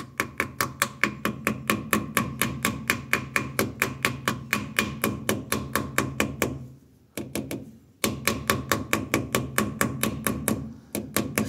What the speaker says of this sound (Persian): چکش پلاستیکی